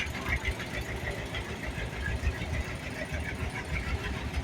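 A 1954 John Deere 720 two-cylinder tractor rolls by in a farm show parade, its engine chugging in a steady, low, knocking rhythm, close and continuous.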